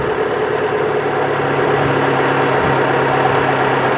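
A Renault Scénic MK1 engine idles loudly and steadily up close, a continuous mid-pitched running drone with a faint rhythmic knock and no pauses.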